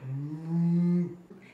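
A person imitates a cow with one long, drawn-out vocal moo that slides and swells before stopping abruptly, loud and close with no other voices.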